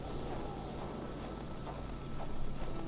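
A generator runs in the video game Kona, a steady, dense mechanical drone holding at an even level throughout with no talking.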